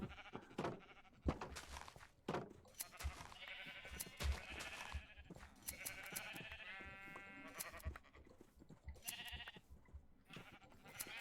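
Sheep in Minecraft bleat together, a chorus of overlapping wavering cries at moderate level, mixed with background game sounds and occasional talk.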